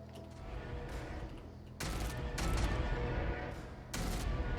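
Gunfire in the sci-fi shooter game Jupiter Hell: a low rumbling backdrop broken by several sharp, loud bursts of shots in quick succession, the barrage growing denser toward the end.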